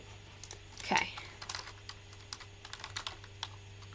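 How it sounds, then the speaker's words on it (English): Light keyboard typing, quiet and irregular, with soft scattered keystrokes over a low steady hum and a brief louder burst near the start. "I'll keep typing along."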